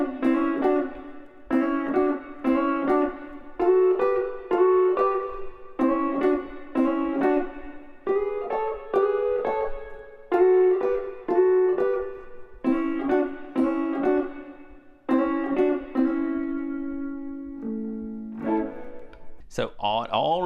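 Electric guitar plays a honky-tonk rhythm with hybrid picking, a bouncy bass-note-and-chord pattern with hammer-ons, close and clean, ending on a sustained note and a final flourish.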